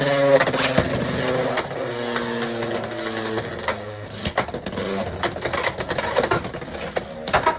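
Beyblade X tops launched into a stadium and battling, with a whirring spin tone and a quick series of sharp clacks and scrapes as the tops collide, fairly close and without talk.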